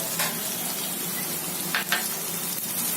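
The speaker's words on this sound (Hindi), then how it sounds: "और जब ये हरी मिर्च थोड़ी सी फ्राई हो जाए" Green chillies fry in a pan for a spicy boiled egg bhurjee, a soft steady sizzle with two brief bursts of spattering, close and alone.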